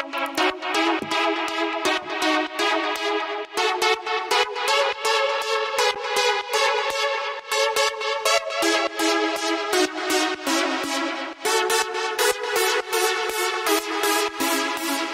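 A three-layered synth main lead from a melodic house track built in Ableton Live plays a bright, looping pattern of rhythmic stabbed notes, steady and alone for about fifteen seconds.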